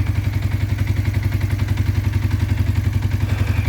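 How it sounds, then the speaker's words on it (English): A 1980 Honda CB400T motorcycle engine, freshly fitted with rebuilt carburetors, idles steadily nearby with a rapid, even low-pitched pulse and light mechanical clatter, running alone without voices. "She runs with her own power now."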